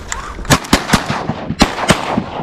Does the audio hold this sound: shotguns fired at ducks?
yes